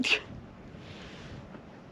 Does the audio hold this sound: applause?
no